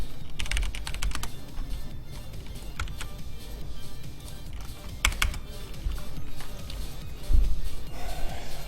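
Computer keyboard typing, clustered in quick bursts of keystrokes with short pauses between them, close and clear over a quiet room hum, with no talking.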